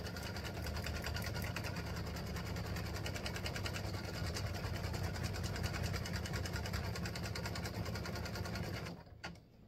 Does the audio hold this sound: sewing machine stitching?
yes